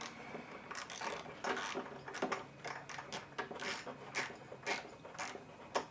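A wrench ratcheting a spark plug snug on a Lawn Boy mower, making repeated short metallic clicks and ratchet strokes in an irregular rhythm, close and fairly faint.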